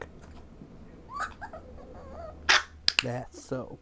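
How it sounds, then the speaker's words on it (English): A ten-week-old Norwich Terrier puppy gives a few short, high yips and barks on command during obedience training, close to the microphone, with a person talking in between. "So this, guys, is a Norwich Terrier puppy, about 10 weeks old"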